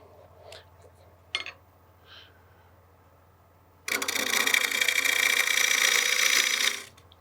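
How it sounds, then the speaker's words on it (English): A green wood bowl being roughed out on a wood lathe at about 800 RPM with a 1/2-inch fingernail-grind bowl gouge, heard as a loud, sustained scraping cut lasting about three seconds, preceded by a few faint knocks. "We'll start with our 1/2-inch bowl gouge with a fingernail grind."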